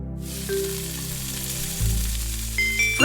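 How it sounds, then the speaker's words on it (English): Food sizzles in a frying pan with a steady crackling hiss that fades in and stays constant, with gentle background music beneath and no talking. "Frying pan."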